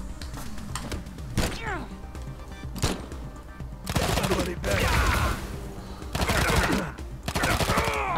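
Bursts of gunfire from a Wasteland 3 firefight, loud clustered volleys and sharp shots recurring across the stretch, with people talking over much of it.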